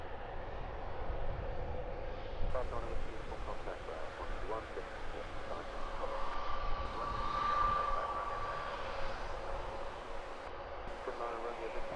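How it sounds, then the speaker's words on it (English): An EasyJet Airbus A320neo takes off at Luton Airport, its jet engine a steady broad roar with a rising whine that builds toward the middle and holds, while a voice talks over it throughout. "A320neo EasyJet flight 2459 off to Lisbon"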